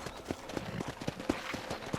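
Horse hooves clip-clop on a ranch in a steady, brisk rhythm of evenly spaced hoof strikes, fairly faint and close, with no talking over them.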